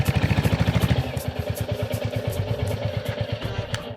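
A motorbike engine idles nearby with a fast, regular throbbing pulse that softens slightly partway through, with light mechanical clatter on top.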